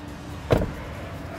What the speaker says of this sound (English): shut the van door.